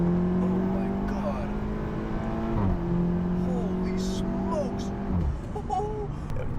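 A 2019 VW Golf R with a larger turbo and Stage 1 tune accelerating hard, engine note climbing steadily through two gear changes, loud and close, with voices heard over it.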